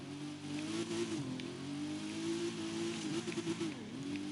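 An Aston Martin engine revs in The Crew 2, a steady mid-pitched drone that swells and dips in pitch, with a sharp dip near the end, loud and close without talk.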